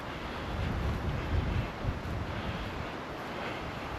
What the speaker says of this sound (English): Hear the wind blowing.